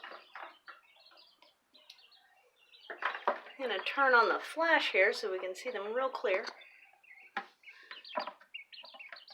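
Quail chicks about a week and a half old peep and chirp inside a bucket brought in from outside, a busy run of close, high cheeping mixed with someone talking over them.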